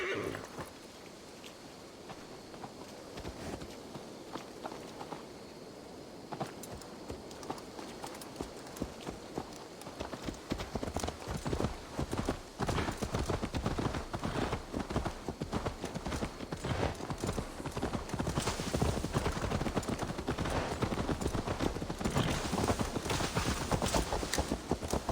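Horse hooves clip-clopping in Assassin's Creed Valhalla, a sparse start building into a quick, steady galloping rhythm that grows louder and continues throughout, with a voice speaking in places.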